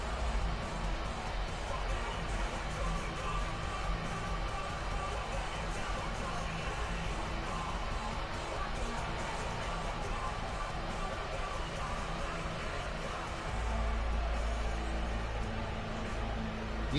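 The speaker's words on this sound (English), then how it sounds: "You can hear the mixed reaction from the crowd here." Wrestling event crowd giving a mixed reaction, a continuous, loud wash of arena noise and babble from many people that swells slightly near the end.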